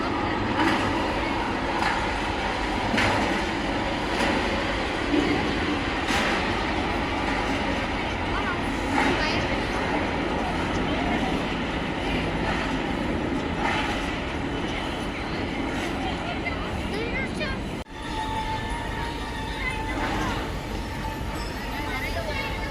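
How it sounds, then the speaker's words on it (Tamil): A train rumbles and rattles past steadily for over twenty seconds near a park in Chennai, with people talking over it throughout. "ட்ரெயின் வருது பாரு."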